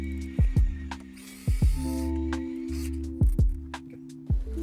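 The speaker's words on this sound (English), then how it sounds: "You can tighten the 3 bolts." Ratchet tightening headlight bracket bolts on an FJ Cruiser, with quick clicking bursts repeating in short groups, close and fairly quiet.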